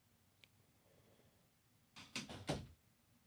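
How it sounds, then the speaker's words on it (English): A door being pulled shut indoors, giving a short cluster of thumps and a rattling latch near the end after a faint earlier tap, with no speech over it. "I'm going to close the door so I don't hear Steve."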